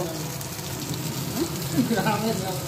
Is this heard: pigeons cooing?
no